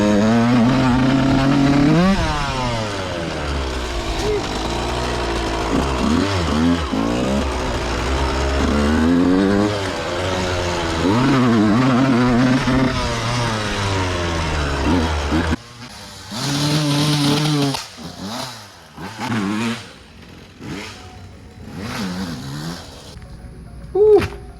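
Yamaha YZ125 two-stroke dirt bike engine revving and buzzing loudly and close for about fifteen seconds, then dropping into choppy, sputtering bursts with sharp popping backfires.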